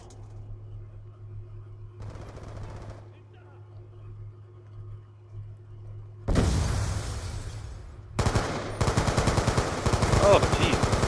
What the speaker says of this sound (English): It's fucking grenades!